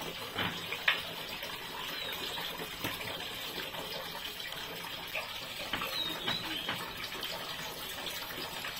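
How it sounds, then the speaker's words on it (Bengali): Water from a tap runs steadily in a bathroom while someone washes their face, a continuous moderate gush with small splashes and no talk. "এবার আমি একটু ফ্রেশ হয়ে নেবো, মুখটা ভালো করে ধুয়ে।"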